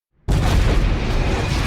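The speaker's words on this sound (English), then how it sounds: "The missile hits the compound behind them, sending a massive explosion into the air." A sudden, massive explosion bursts in after a brief silence, then a loud, sustained roar of rumbling debris and blast noise fills the rest.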